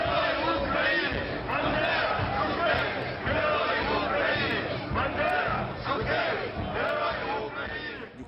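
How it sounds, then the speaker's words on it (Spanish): A large crowd cheering and chanting for a national hero at a political rally, a dense continuous roar of many voices with rhythmic shouted surges, loud and sustained throughout. "mientras se vitorea al héroe nacional"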